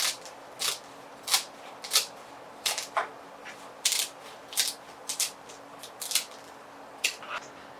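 Scissors cutting a straw hat to shape a bonnet, about a dozen crisp, close snips in an uneven rhythm with quiet gaps between them.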